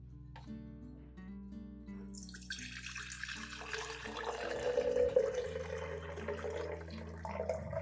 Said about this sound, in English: Strain out the banana peels and keep the clear liquid for use.